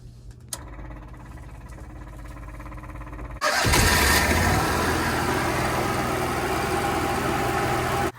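A Cummins Onan 5500 RV generator, fitted with a replacement gas fuel pump, sits quiet with a faint hum and a click, then fires up abruptly and settles into a loud, steady running roar.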